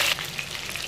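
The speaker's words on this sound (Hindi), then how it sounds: "एक दो मिनट तक हम ऐसे उलट पलट के फ्राई करना है।" Pieces of parwal fry and are turned in hot oil, a brief close crackling sizzle that opens slightly louder and then holds steady, with no speech.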